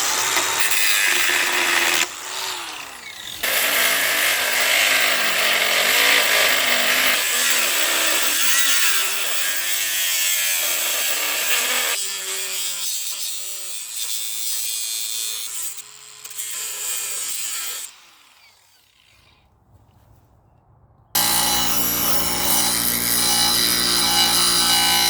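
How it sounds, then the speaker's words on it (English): A zip cut saw slicing through iron outdoors, a loud, steady, harsh grinding whine that carries on for a long stretch, briefly drops away nearly to silence, then bursts back in at full force. "So I've got this zip cut saw."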